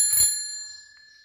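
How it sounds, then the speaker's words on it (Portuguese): A vintage bell on a 1973 Monark Brasil de Ouro bicycle gives one bright metallic ring, close and clear, its tone lingering and fading slowly over about a second. "Campainha de época."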